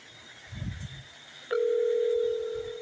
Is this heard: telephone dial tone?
yes